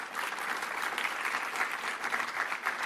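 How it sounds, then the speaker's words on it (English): Steady, even applause from a conference audience during morning sessions of a journalism symposium, a dense wash of many hands clapping throughout with no voices over it. "So a big applause."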